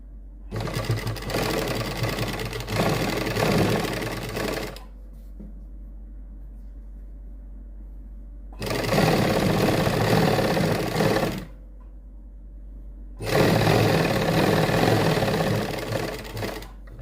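Sewing machine stitching a lace strip onto a suit neckline: three long bursts of close, loud, steady mechanical whirring, separated by quiet pauses with a faint hum.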